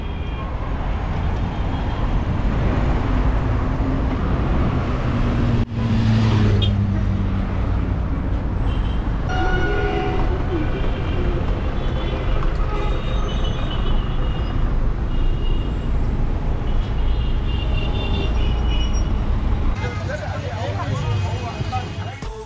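Downtown Cairo street traffic with no working traffic lights, a dense wash of engines, road noise and passing vehicles with occasional horn-like tones, loud and continuous while a person talks over it.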